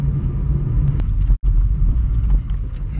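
A solar-powered car with battery charging by plug drives along, giving a steady, loud low rumble with wind buffeting the microphone and one brief dropout midway.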